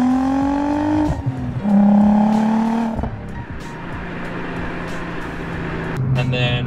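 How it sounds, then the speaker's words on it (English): A catted Audi B5 S4 with a Borla catback exhaust, Labrie downpipes and a dual-map tune, its engine droning and revving up in loud, close sweeps with brief drops between pulls. "a Borla catback exhaust to give it just a nice sound."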